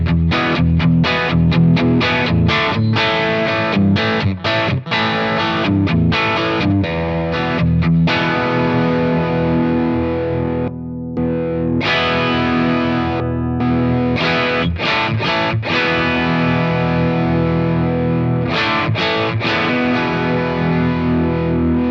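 Heavily distorted electric guitar through a Browne Amplification Ethane dual drive pedal with its high cut engaged plays continuous chords and notes, loud and saturated, with a slightly rolled-off, darker top end throughout.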